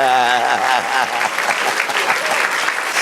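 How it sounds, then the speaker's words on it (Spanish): A church congregation applauds steadily in a full, sustained burst, with music and a few voices faintly underneath. "Den un aplauso al Señor."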